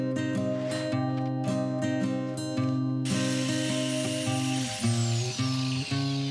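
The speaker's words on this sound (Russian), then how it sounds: "сейчас болгарка" An angle grinder cuts through steel cable, a loud, high, whining tone with steady harmonics that shifts partway through into a harsher, brighter abrasive screech, with brief pitch dips as the disc bites.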